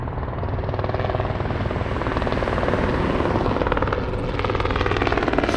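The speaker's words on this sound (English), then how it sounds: "Strange little helicopters." Small helicopters fly overhead, a continuous rotor chop that is loud and steady and swells slightly toward the end, heard during a sunny e-bike commute in Orange County, California, with no talk.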